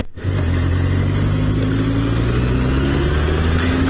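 Serviced and tuned Honda CBR1000F with balanced carburetors and rebaffled, repacked exhaust pipes, starting up close by and then running with a steady, smooth engine drone that rises slightly in pitch, no talking.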